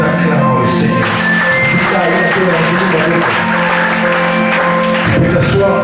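A church congregation applauds and cheers the Lord, with sustained loud clapping mixed with voices and tonal music, continuing steadily before easing off near the end.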